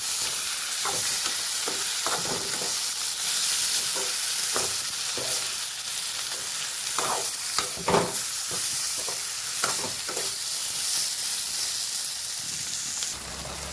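Ginger, chili and garlic paste fries in a pan, a constant hiss of oil broken by repeated scraping strokes of a spatula, close and fairly loud throughout with no voices.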